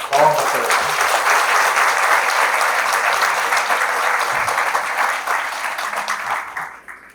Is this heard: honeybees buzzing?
no